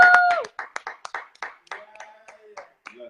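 During a live political update stream, a few people clap irregularly in short scattered bursts. A tonal chime or whistle sounds at the start and again faintly later on.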